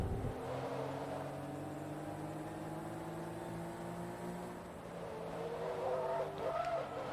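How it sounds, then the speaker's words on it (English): Tires squeal and skid as a car breaks loose in the racing video game Forza Motorsport 2, with a sustained engine drone underneath and rising squeals near the end. "Oh, even with the sport tires, the car still wants to break loose."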